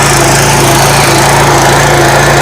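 A walk-behind farm machine that runs without a tractor, used for harvesting wheat and paddy, weeding, hoeing and shaping straight potato beds. Its small engine gives a loud, steady high-pitched drone close by, with no voices.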